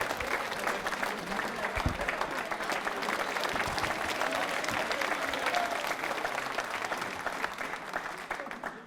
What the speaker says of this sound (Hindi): हंसा उज्जवल के लिए जोरदार तालियां बजाइए